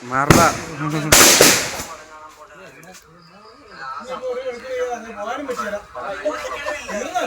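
Firecrackers, including palm-leaf ola padakkam, bursting at a Vishu celebration: two loud sharp bangs near the start, then people talking for the rest.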